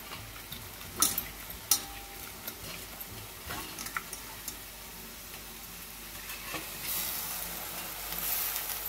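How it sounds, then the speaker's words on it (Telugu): Prawns frying in a pan with a soft, steady sizzle and hiss, broken by a few sharp clinks and stirring taps, moderately quiet and close, with the frying growing slightly louder toward the end. "తర్వాత రొయ్యలు వేసేస్తున్నాను"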